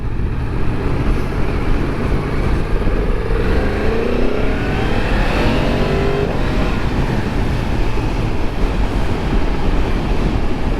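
A 2022 Yamaha MT-10 motorcycle's engine drones steadily during a test ride, with a rising note as it pulls through the gears, loud and continuous beneath heavy wind rush.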